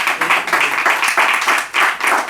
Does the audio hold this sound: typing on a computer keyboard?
no